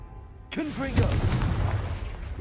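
A Confringo blasting spell from the video game Hogwarts Legacy bursts suddenly after a quiet start, a loud blast with crackling, tonal magical swirls that lingers over a continuous rumbling bed with murmured game sounds.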